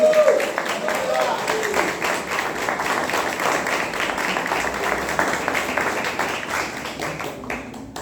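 Church congregation at a Father's Day family service applauding, a steady wash of many hands clapping for several seconds, with scattered voices underneath.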